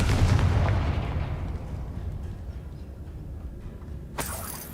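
A Confringo fire-blast spell explodes in Hogwarts Legacy, a deep booming blast with a rumbling tail that fades over several seconds before a sharp crack near the end.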